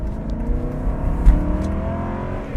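An Aston Martin Vantage engine hums and builds as the car accelerates, a steady low rumble with a brief thump partway through and another at the end.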